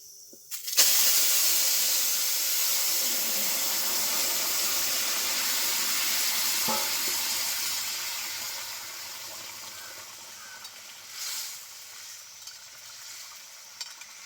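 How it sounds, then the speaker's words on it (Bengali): Whole nigella seeds with a dried red chilli hit hot oil as a tempering for a pumpkin dish, bursting into a loud sizzle that slowly fades to a soft hiss with a few small clinks. "গোটা কালো জিরে নেড়ে নিলাম এখন সম্বারে দিয়ে দিচ্ছি"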